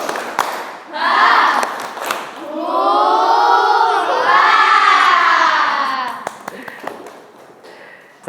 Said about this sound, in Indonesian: kita tepuk semangat dulu biar tambah semangat, tambah fokus lagi